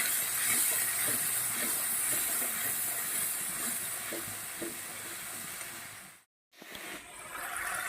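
Spice masala with salt and turmeric sautéing in a pan gives a steady, loud sizzling hiss with faint scraping ticks, broken by a brief drop to silence before the sizzle returns.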